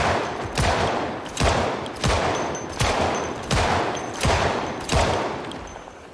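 Gunfire in Project Zomboid sounds as a steady series of about seven loud, sharp shots spaced evenly less than a second apart, each with a short echoing tail and no talking.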